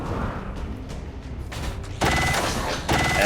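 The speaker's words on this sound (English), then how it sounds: "So we'll just reload and shoot." Video game gunfire with weapon reloading mechanisms, a few muffled shots and clicks giving way to two louder bursts of metallic, ringing fire near the end.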